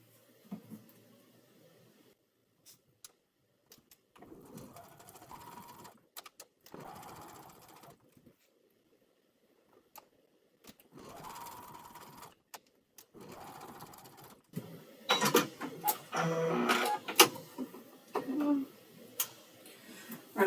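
A sewing machine chain piecing quilt blocks runs in several short bursts with pauses between, close and moderately loud, with a few clicks and handling noises in the gaps.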